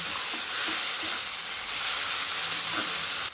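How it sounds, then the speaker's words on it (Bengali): Ginger, onion and a little garlic paste hitting hot oil in a kadai (wok) for tadka, a loud, close, continuous hissing sizzle with faint stirring underneath, no voices. "আদা আর পেঁয়াজ আর অল্প রসুন বাটা দিয়ে দিলাম কড়াইয়ের মধ্যে"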